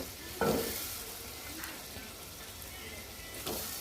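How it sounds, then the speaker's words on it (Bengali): Potatoes stir-fried in a pan with turmeric and chili powder, giving a soft, steady sizzle with scraping stirs at the start and end, fairly faint and without talk. "আলুটা ভালো করে কষাবো"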